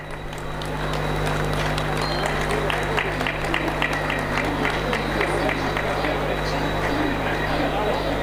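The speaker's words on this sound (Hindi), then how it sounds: "ताली बजती रहनी चाहिए।" Crowd clapping at a Babasaheb Ambedkar birth anniversary celebration at Old Delhi railway station, sustained rhythmic applause building in the first second then holding steady, with a hum and crowd murmur beneath.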